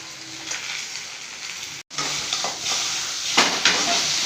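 Okra sautés in oil in a pan with a close, continuous sizzle and frequent stirring scrapes and clatters, briefly cut off once before resuming louder.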